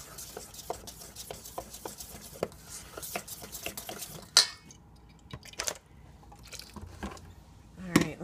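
A spoon scrapes and squelches through thick batter in a bowl, with quick repeated strokes, then a pause and a few clinks against the side.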